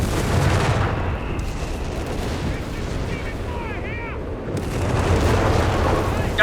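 Artillery fire in the World War II strategy game Company of Heroes 3 booms and rumbles continuously as a German side commits its guns, dense overlapping blasts filling the background beneath a commentator's voice.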